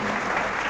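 A church audience claps for a priest in steady, dense applause, loud and close throughout a short moment.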